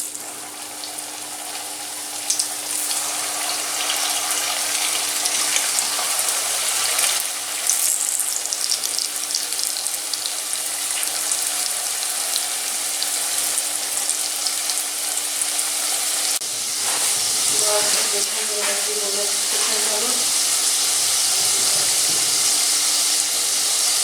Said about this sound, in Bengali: আমি সাদা তেল আর ঘিয়ের মিশ্রণটা কড়াইয়ে দিয়ে দিলাম। তেল গরম হয়ে গেছে, এবার আমি সামোসাগুলো এতে ছেড়ে দেব।